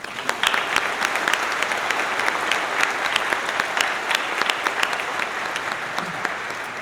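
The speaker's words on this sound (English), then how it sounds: "Please join me in a round of applause to acknowledge families" A crowd at a high school graduation ceremony applauds steadily with dense clapping throughout, a broad, sustained wash of hands at moderate distance with no talking over it.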